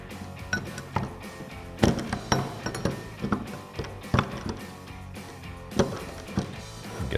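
Metal clinks and ratcheting taps come from a wrench tightening the middle adjustment nut on an adjustable rear camber arm of a 2006-2023 Dodge Charger, in irregular close bursts with short pauses.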